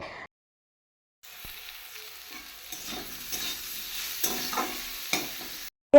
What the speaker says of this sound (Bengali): আলু বেগুনটা হালকা করে ভেজে নিয়ে তারপরে শাকটা দিয়ে দিলাম